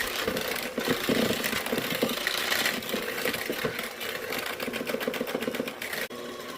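Electric mixer whirring steadily through cookie dough ingredients for s'mores protein cookies, a continuous buzzing motor drone with slight rhythmic variation, close and fairly loud, stopping abruptly near the end.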